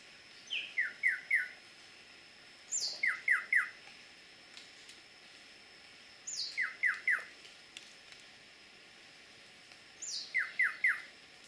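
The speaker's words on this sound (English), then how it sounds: "Soon afterwards, we found this long-billed wren." A long-billed wren sings along a forest trail in repeated bursts of clear, bright whistled notes, each phrase three or four quick notes, coming roughly every three to four seconds and carrying well above a quiet background.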